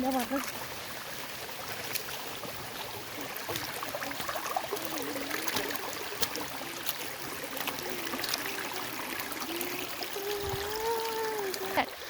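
Water trickles and flows from a small natural spring as a faint, steady babble that continues throughout while people talk nearby.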